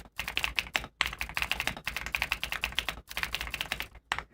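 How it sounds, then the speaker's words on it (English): Rapid clacking keystrokes on a new computer keyboard, close and crisp, coming in quick bursts separated by brief pauses, with no voices. "keyboard sound experience"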